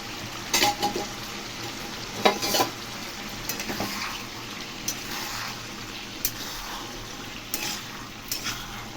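Prawns and chopped bottle gourd fry in a pan for Bengali lau chingri. A steady sizzle runs under repeated spatula strokes and scrapes, with louder clanks against the pan every few seconds.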